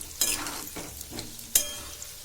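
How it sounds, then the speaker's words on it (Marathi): Potato pieces fry over medium gas in a pan for restaurant-style dum aloo bhaji, a steady sizzle broken by a few sharp scraping stirs, close and clear with no talking. "हे बटाटे तळताना मीडियम गॅसवर तळायचे."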